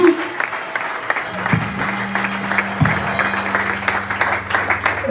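A church congregation at a worship service bursts into loud, sustained applause, dense steady clapping under a held sustained tone from an organ or keyboard.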